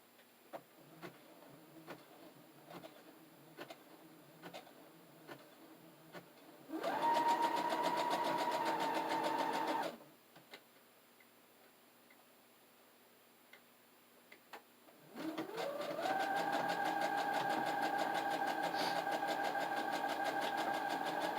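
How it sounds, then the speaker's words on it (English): A Brother Project Runway sewing machine sews a zigzag stitch in two steady, buzzing runs of a few seconds each, close and clear, with a light ticking of the machine in the pauses. "I use the zigzag stitch, which is on the Brother Project Runway Sewing Machine"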